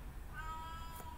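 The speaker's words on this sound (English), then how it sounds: "My cat is meowing." A pet cat gives a single short, thin meow, faint against a steady background hum.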